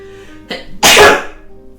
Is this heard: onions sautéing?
no